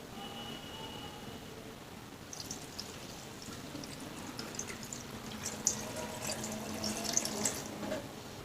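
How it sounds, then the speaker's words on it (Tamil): Boiled, cooled cow's milk pours over papaya in a steady, soft liquid stream, heard close with no talking. "நான் ஒரு கிளாஸ் ஊற்றிக்கிறேன்."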